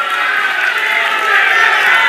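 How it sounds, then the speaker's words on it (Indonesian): Attendees at an Indonesian regional candidates' debate applaud the candidate pairs. The clapping forms a thick, even wash that stays loud and constant, with faint crowd murmur underneath. "boleh kita berikan tepuk tangan untuk masing-masing pasangan calon"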